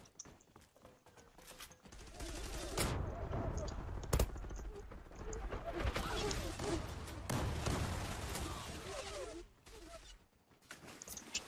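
Gunshots ring out in scattered bursts during a mobile game team deathmatch, mixed with thumps and game noise while people talk excitedly over the action.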